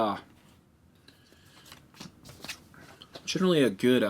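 Cards for the Too Many Bones board game are shuffled at the table, giving a soft papery riffle and crisp flicks, with a voice speaking over the end.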